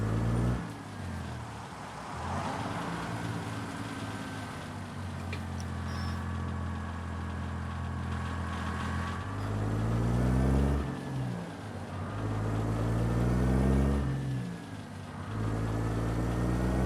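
A steady, droning truck engine from American Truck Simulator, a Ruda 389 Glider, hums continuously, its pitch rising and dropping as gears shift, with a faint whine running throughout.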